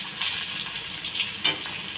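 Curry leaves and two dried red chillies frying in hot oil for a Kerala chickpea curry: a loud, continuous sizzle close by, with a few sharper crackling spurts rising out of it.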